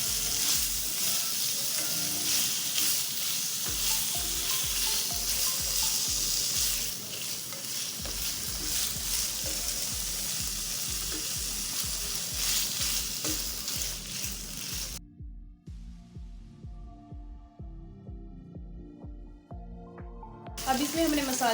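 Chicken pieces fry and sizzle steadily in a pan for Eid snacks, with a constant loud hiss and rhythmic scraping of a stirring utensil, then a quieter stretch near the end with faint clinks.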